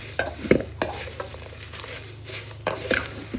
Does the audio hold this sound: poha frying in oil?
yes